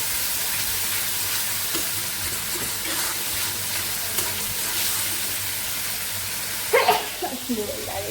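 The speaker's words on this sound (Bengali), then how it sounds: "কাঁঠালের কাঁচা ডোটা দিয়ে চচ্চড়ি হচ্ছে মশলা দিয়ে মশলাটা কষাচ্ছি" Spice paste for a raw jackfruit-stem chorchori frying in oil, a steady close sizzle and hiss with a spatula clatter near the end, while people talk over it.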